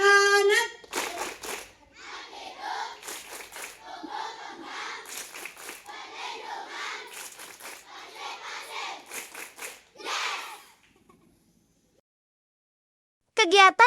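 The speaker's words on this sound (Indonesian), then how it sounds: "anak-anak melakukan tepuk hak anak dan yel-yel" Children at an outdoor school World Children's Day event clap in a fast rhythmic pattern and chant child-rights yells together, with bursts of group shouting between the claps, then a short pause before the clapping starts again.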